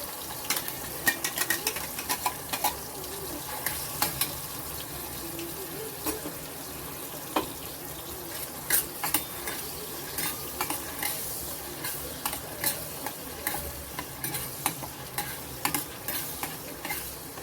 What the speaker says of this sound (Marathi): छान हे वाटण परतून घ्यायचं आपल्याला